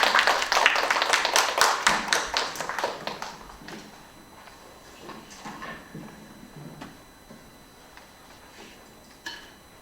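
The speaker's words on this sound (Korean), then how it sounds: "박수로 맞이하겠습니다" A small academic conference audience claps to welcome a presenter, a short burst of sharp, close claps for about three seconds, then scattered faint taps and a few stray claps trailing off into quiet.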